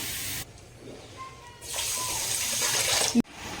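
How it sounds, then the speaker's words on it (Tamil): Water poured into a pan for gulab jamun sugar syrup: after a quiet start, a close splashing gush runs for under two seconds and stops abruptly. "தண்ணி வந்து ஒரு 2 கப் அளவுக்கு தண்ணி சேர்த்துக்கேன்."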